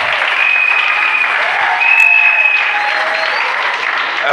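A church congregation bursts into sustained applause with cheering, a dense, steady wash of clapping that swells slightly midway and carries on without pause, with a few faint whistles above it.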